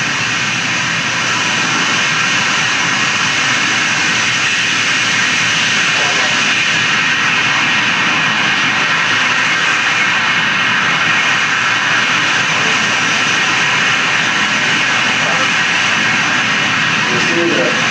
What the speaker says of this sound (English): The engine's actually correcting 100 times a second.